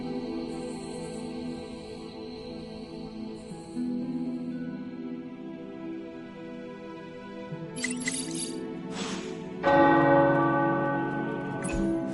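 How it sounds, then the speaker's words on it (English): Tower bells in Marvel's Midnight Suns ring out over a steady ambient music bed, with a louder burst of clanging peals near the end. "The tower bells are ringing."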